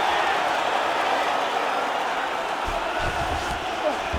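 Arena crowd at a UFC fight, Alexander Gustafsson against Jiří Procházka, roars and cheers steadily throughout, a dense wall of loud noise with some bursts, and a commentator's voice faintly underneath.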